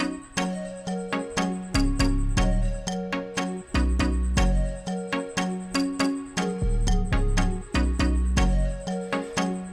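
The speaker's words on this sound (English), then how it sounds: "Now I'm bringing in the flute here. Just a little bit of melody flute." An upbeat soca groove with punchy kick and percussion hits, topped by a light, high flute melody repeating over the beat.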